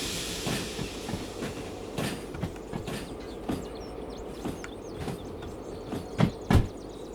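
A freight train in the Derail Valley game rolls along with steady clickety-clack over rail joints and a low rumble, broken by a couple of louder clunks near the end as the train brake is applied.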